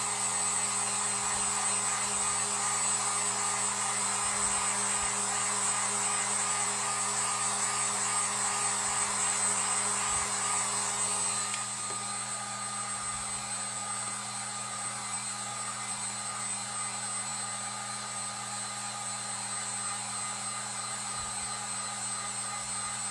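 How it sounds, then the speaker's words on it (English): A heat gun blows steadily on art ink stenciled onto a tea towel, a loud, constant close-up whoosh with a hum underneath, dropping to a slightly quieter, lower-temperature setting midway and running on unbroken. "Heat guns are great. I'm going to turn it to the lower temp."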